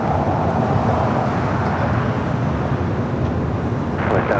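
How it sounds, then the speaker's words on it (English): Boeing Dreamliner airliner taking off at LAX, a steady broad roar of jet engines with wind buffeting, sustained and fairly loud from a distance across the airfield, with no voices. "Tom at Dreamliner taking off there on the north side"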